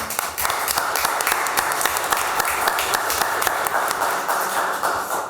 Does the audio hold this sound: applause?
yes